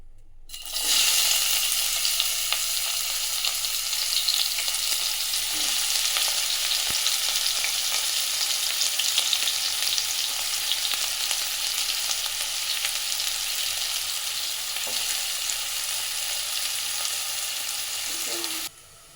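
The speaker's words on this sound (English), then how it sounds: "తర్వాత కట్ చేసి పెట్టుకున్న ఆనియన్స్ వేయాలి" Chopped onions fry in a little oil while cooking mutton brain fry, a steady, loud, continuous sizzle lasting nearly the whole stretch with no voices.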